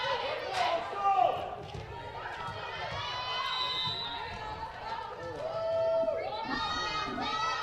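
Bench players at a college volleyball match cheer and shout after a Central ace, their voices carrying through a gym alongside crowd chatter and a few sharp thumps, a little distant and moderately loud.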